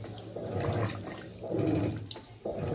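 An Electrolux Blue Touch 12 kg top-load washing machine fills with water on the high level setting, a steady close rushing pour that surges in waves.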